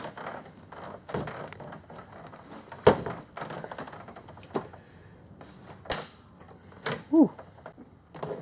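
A hose clamp and hose are fitted onto the thermostat housing of a 2010-19 Dodge Ram 5.7L Hemi, giving scattered close metallic clicks, knocks and clanks with sparse rubbery squeaks between quiet pauses.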